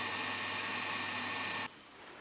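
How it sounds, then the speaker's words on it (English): Hitachi water pumps run with a loud, steady broadband whir and hum, close by, then the sound drops sharply to a quieter background hiss near the end. "Water pumps running."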